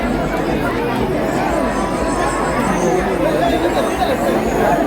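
A dense crowd chattering in front of a temple during a full-moon festival fair, many overlapping voices forming a loud, continuous murmur close around.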